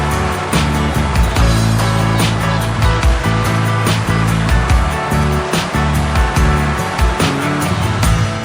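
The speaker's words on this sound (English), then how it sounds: "I'm standing in the Todd River, which has actually got water in it. It's flooded." Floodwater of the Todd River at Alice Springs rushes past, a loud, steady broadband roar of flowing water close by with no talking.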